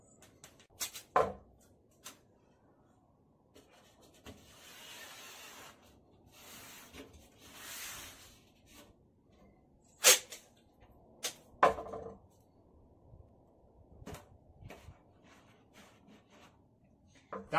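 Tape being ripped off a screen-printing screen during T-shirt printing, several quiet tearing and peeling strips with sharp snaps and rustles in between, close by and with no talking.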